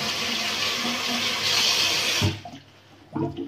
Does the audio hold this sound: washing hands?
yes